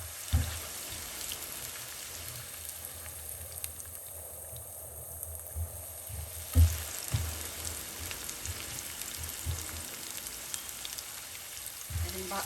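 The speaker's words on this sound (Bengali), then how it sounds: "এই আমি হালকা বাদামি করে ভেজে নিব" Fish kofta pieces frying in hot oil until lightly browned, a steady soft sizzle and crackle running throughout with a few louder pops, close and continuous without talk.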